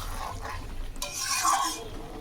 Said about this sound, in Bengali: দেখো তোমরা মশলাটাকে পুরো এরকম শুকনো শুকনো করে কষাবে, যাতে একদম কড়াইতে লেগে লেগে যায়